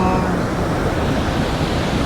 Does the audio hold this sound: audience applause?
no